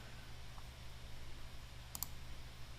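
A single quiet computer mouse click, sharp and brief, over a low steady room hum while browsing an online store's product catalog.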